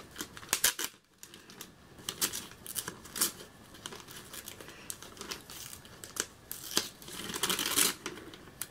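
A tape-sealed package holding a Prison School manga volume is opened by hand, with close crinkling and crumpling of wrapping, sharp tape tearing and rustling in uneven bursts and no talking.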